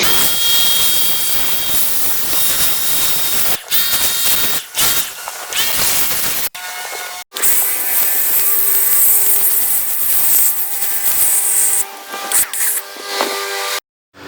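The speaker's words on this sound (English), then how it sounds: "And then I got this foam cannon." A foam cannon on a pressure washer sprays car wash soap in a loud, steady hiss of pressurized spray, broken by a few short pauses.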